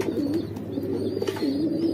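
Domestic pigeons in a backyard loft, among them a blue-grey cock, coo close by in two rolling, wavering phrases over a steady low hum.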